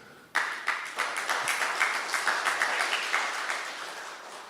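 Church congregation applauding together, a dense wash of many hands clapping at moderate distance, starting abruptly and sustaining steadily with rhythmic pulses throughout, no voices above it.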